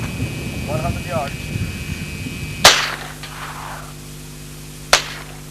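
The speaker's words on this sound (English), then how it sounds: "Here it goes, semi-automatic mode. 100 yards." A 1977 experimental prototype low-recoil submachine gun fires Israeli ammunition in semi-automatic mode at a 100-yard range, two sharp single shots a couple of seconds apart with a short echo tail, after a faint voice.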